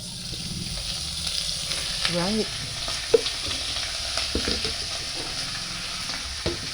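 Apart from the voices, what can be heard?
chicken frying in a pan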